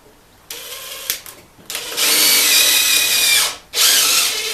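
Cordless drill driver running in several loud, close bursts of whirring as it fixes treated timber battens to an exterior wall, with brief pauses and a speed dip between runs.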